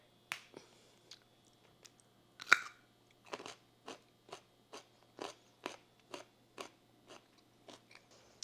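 A raw carrot is crunched close up, with a steady series of about fourteen sharp, crisp bites and chews spaced roughly half a second apart in an otherwise quiet room.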